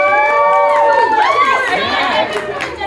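A convention panel audience at Saboten Con 2019 cheers loudly and continuously, with several high whooping voices rising over a dense crowd roar that stays close and full for about three seconds.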